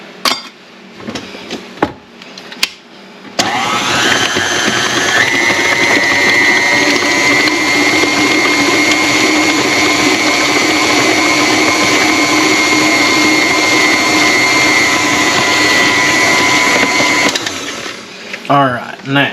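An electric mixer whirs loudly and steadily for about fourteen seconds, beating eggs into cookie dough, with handling clatter before it starts and as it stops.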